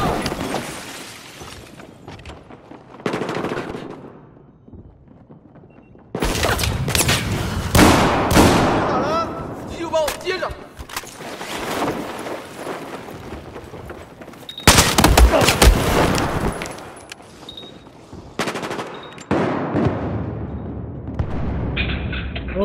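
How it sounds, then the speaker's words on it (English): Gunfire in the shooter game Battlefield 4, with sharp shots, rapid automatic bursts and booms coming in several loud clusters over twenty seconds, separated by quieter stretches. "Oh, somebody shooting at me."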